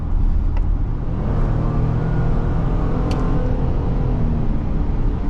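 A Ford Police Interceptor Utility Hybrid 3.3L SUV drives on city streets, with a steady, loud engine and road rumble heard from inside the cabin throughout.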